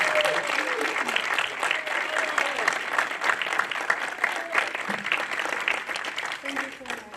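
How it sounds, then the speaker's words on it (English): A crowd at a storyline finalist showcase applauds a finalist, steady clapping with a voice speaking over it at times. "one more round of applause for Anna"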